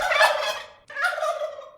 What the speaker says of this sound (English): So I've got two samples of turkeys that I got from freesound.org